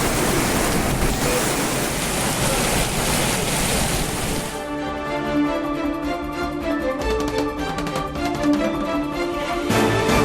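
Swollen Courtallam waterfalls after heavy rain give a loud, continuous roar of crashing water for about four seconds before it cuts abruptly to music.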